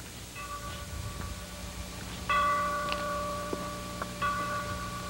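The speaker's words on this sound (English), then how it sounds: "For the last time, ring out the old ranch bell." An old ranch bell rings out at an outdoor pageant play, several clear resonant strikes a second or two apart, each leaving a lingering hum over a quiet hiss.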